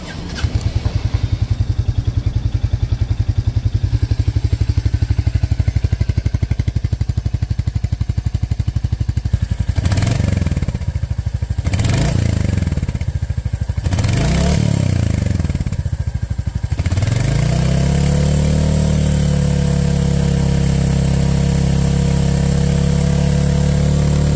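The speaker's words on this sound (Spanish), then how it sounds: "Por aquí les voy a poner un ejemplo del sonido que me mandó mi camarada Dan con su Honda 350 para que escuchen más o menos cómo suena." A Honda 350 motorcycle engine runs loud and close, idling with a steady low rumble, then revs up and down in three quick bursts before settling into a smoother, higher idle.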